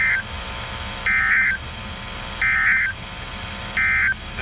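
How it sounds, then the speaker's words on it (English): Emergency Alert System test tones sound as a repeating pulsed electronic buzz, three short bursts at an even rhythm, moderately loud over a low background hiss. "This concludes the tone alarm test."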